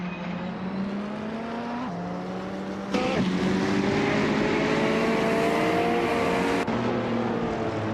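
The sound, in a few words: race car engines in a racing video game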